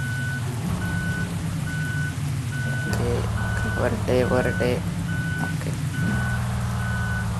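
A bus in the Bus Simulator Indonesia game sounds repeated evenly spaced reversing beeps over a low engine drone, and someone speaks briefly partway through.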